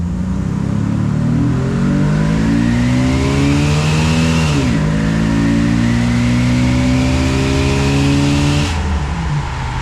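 A Jeep Wrangler with the 4.0 engine and an HP Tuners tune accelerating hard from 0 to 60, loud close engine roar climbing steadily in pitch, dropping at a gear shift midway, then rising again until another shift.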